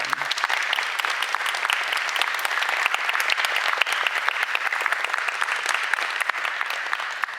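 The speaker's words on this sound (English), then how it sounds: "a round of applause for our mayor who's stepping down" Sustained applause at a mayoral candidate forum in Melissa for the outgoing mayor, a dense, even wash of many hands clapping that holds steady and loud for several seconds without pause.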